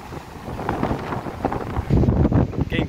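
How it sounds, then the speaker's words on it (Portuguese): Strong gusty wind at Praia Grande beach in Penha, Santa Catarina, on a stormy day with a high tide, buffeting the microphone in rough, uneven bursts that grow louder toward the end. "Tá ventando muito."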